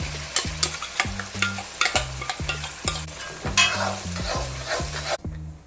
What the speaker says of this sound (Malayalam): വേപ്പല നമുക്കിനി അരക്കി വെച്ച സവാള കൂട്ടാം